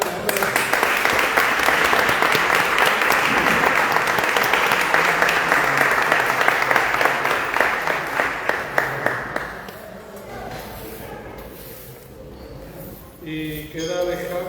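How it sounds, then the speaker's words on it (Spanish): Loud, dense applause from an audience at an award ceremony, sustained for several seconds before thinning into scattered claps and fading, with brief talk resuming near the end. "Un aplauso, hombre."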